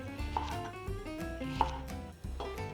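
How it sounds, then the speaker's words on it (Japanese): A kitchen knife slices a green onion diagonally into pieces about 1 cm thick for a chicken meatball hot pot, giving soft, evenly spaced chopping taps on a cutting board under quiet background music. "ではお鍋に入れる方のネギですね。 それを切るんですが、ごく普通に斜めに切っていきます。"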